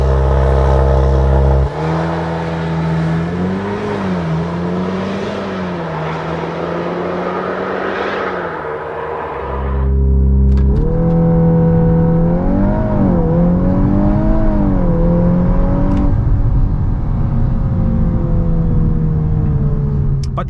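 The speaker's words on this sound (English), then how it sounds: "let's first check out how fast this car goes 0 to 100 with summer tires" A VW Golf Mk8 R-Line hybrid on summer tires accelerating hard from 0 to 100 km/h, the engine note climbing loud and close through gear changes with a whining drone and brief pauses between shifts.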